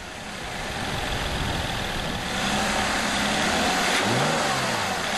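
A Mercedes-Benz SLK 350 BlueEfficiency's 3.5-litre V6 engine accelerates, its note rising steadily and revving up with a shift near the end, loud and close.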